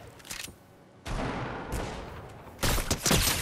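Gunfire in a Fortnite match: bursts of rapid shots and sustained firing over a dense battle din, loud and close, with one sharp surge near the end.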